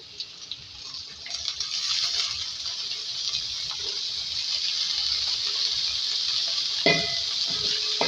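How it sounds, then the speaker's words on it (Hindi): Chopped onion, green chilli and potatoes fry in hot oil for aloo bhaji, giving a steady close sizzle throughout with a brief clatter of stirring near the end. "इसको फ्राई करेंगे तेल में। अब इसमें आलू ऐड करेंगे कटे हुए।"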